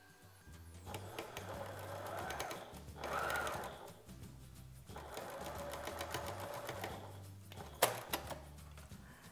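A sewing machine stitches a 1 cm seam through the joined lining and outer fabric of a cotton face mask, running in steady bursts with brief pauses between passes, close and clear.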